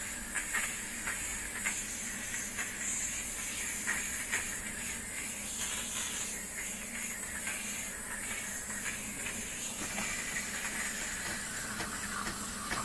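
Chief Steamer at 125 PSI blasting steam to clean bugs off a car, a steady loud hiss with slight fluctuations running continuously, no voices.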